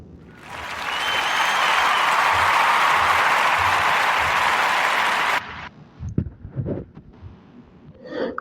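An audience on a podcast breaks into warm, dense applause that swells and holds for about four seconds, then stops suddenly and leaves faint scattered knocks and room sounds.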